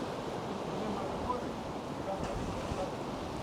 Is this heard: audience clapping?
no